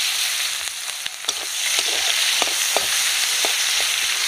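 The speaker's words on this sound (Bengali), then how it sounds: "পেঁয়াজটা ভালো করে ভেজে নেব।" Chopped onion frying in a little oil with bay leaf and dried chilli, a bright continuous crackling sizzle up close, dotted with scattered spatter pops and a few faint stirring taps, with no one speaking.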